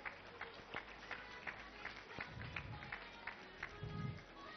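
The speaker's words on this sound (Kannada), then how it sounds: "ಇವರು ಜೋರಾದ ಚಪ್ಪಾಳೆ ಪ್ಲೀಸ್" An audience applauds lucky dip winners at a school prize event, a faint, distant patter of many hands clapping continuously with a low crowd murmur underneath.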